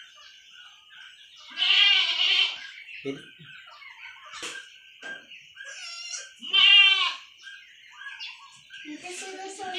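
A young goat bleats several times close up during an iron injection, loud wavering cries separated by short pauses, with a brief spoken word and faint bird chirps.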